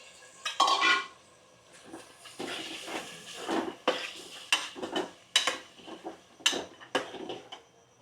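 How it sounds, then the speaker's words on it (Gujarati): Soaked pulses being stirred into vegetables in a pot for rajwadi khichdi, a series of scraping, clattering spoon strokes against the metal with short pauses between them, close and fairly loud. "તો કઠોળ નાખી અને મિક્સ કરી દઈશું."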